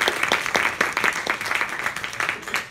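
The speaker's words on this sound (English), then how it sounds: "let's give JJ a big round of applause" Audience applause after a talk on craft beer trends: a steady, dense patter of many hands clapping at moderate volume, sustained throughout with no speech.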